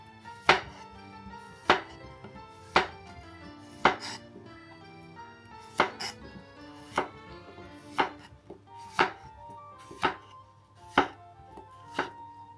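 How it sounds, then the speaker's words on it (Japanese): A knife chopping cucumber into chunks on a cutting board, about a dozen crisp, evenly spaced thuds close by with short pauses between them. "きゅうりを回転させながら切ると簡単に乱切りにできます。"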